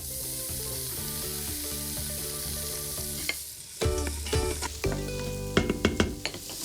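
A sofrito of onions, carrots, celery and garlic sizzling in a pressure cooker pot for Italian bolognese, a steady hiss at first, then clattering stirs and knocks against the pot, close and fairly loud, with no speech.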